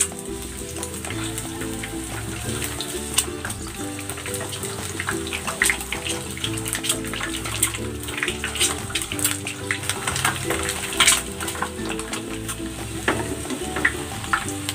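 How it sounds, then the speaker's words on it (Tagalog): Eggs frying in hot cooking oil, a steady close crackling sizzle with dense popping spatter that runs unbroken and alone. "Ipiprito ko muna itong itlog."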